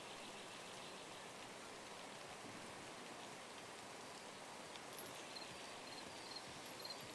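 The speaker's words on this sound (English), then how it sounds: "Sure rains a lot here." Rain falling steadily in Pillars of Eternity 2: Deadfire, a soft, even hiss of drops spattering on surfaces, faint and constant throughout with no voices.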